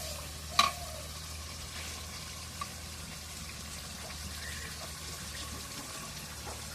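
Fish pieces go into hot frying spices with a steady low sizzle and a few sharp pops, close by, with no talking.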